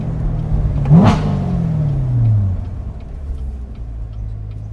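A Chevrolet Corvette C7 Grand Sport V8 blips and revs while driving, a loud swelling engine roar that falls away into a steady low rumble of cruising.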